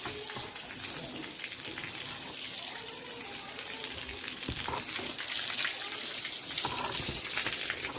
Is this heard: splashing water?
yes